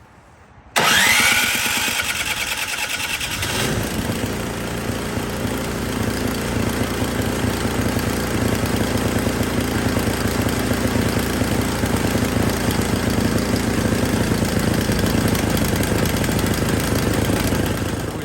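An Ariens snowblower engine with a newly replaced carburetor fires up on its electric starter after a brief crank, then settles into a loud, steady idle that carries on to the end.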